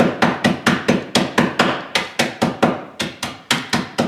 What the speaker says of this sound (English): get you a little hammer and just pulverize some of those bigger chunks